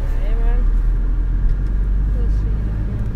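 Car on a city driving lesson along a one-way street, a steady low engine and road rumble running continuously under occasional quiet voices.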